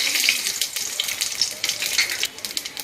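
Cumin seeds and garam masala sizzling in a little hot oil for chicken keema, a bright, dense crackling hiss with small pops, close and steady, no talking.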